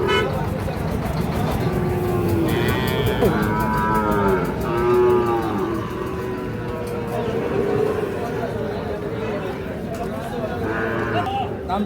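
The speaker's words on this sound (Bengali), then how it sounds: "শাহিওয়াল ষাঁড় বাচ্চা" Sahiwal bull calves about five to six months old at a cattle market, several drawn-out moos rising and falling in turn over a busy background of crowd chatter.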